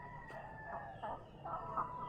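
Chickens on a poultry farm planted with fruit trees crow and cluck at a moderate distance. Several rising calls follow one another, one sharp click comes early, and a faint steady hum runs beneath.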